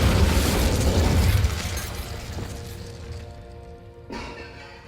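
A fiery incendiary spell blast in Hogwarts Legacy erupts as a loud, roaring burst that fades over a couple of seconds, followed by a smaller flare-up near the end.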